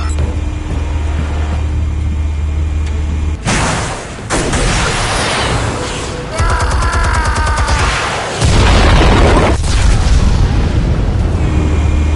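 Armed explosives go off in a Batman scene, a series of loud booming blasts and rumbling bursts filling the scene with dense, heavy noise that swells again near the end.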